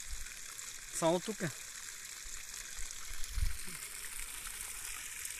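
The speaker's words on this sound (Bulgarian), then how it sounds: "Къде може вода да извира директно така под налягане от реката?" Spring water gushes under pressure beside a river at Gatsova Polyana in Golyam Beglik, making a steady broadband rush. Someone speaks briefly near the start and a low thump comes partway through.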